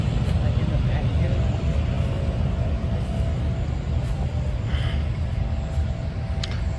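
Continuous low roar of busy road traffic beside an old cemetery in South Georgia, an unbroken wash of engine and tire noise with a few faint higher sounds drifting over it.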